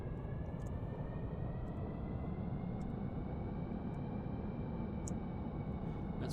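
Jet engines spin up on an aircraft in the game Stormworks, a steady whining roar with a dull rumble beneath and a few faint clicks.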